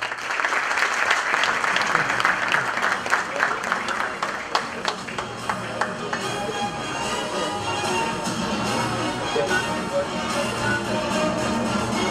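An audience at a Sakarya sports awards ceremony claps for Metin Ergezer, with sharp, distinct claps that gradually thin into a softer, steady round of applause and a faint murmur underneath.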